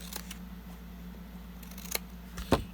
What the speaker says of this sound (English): I'm going to go ahead and cut this one out first, and I am using my Westcott sticky scissors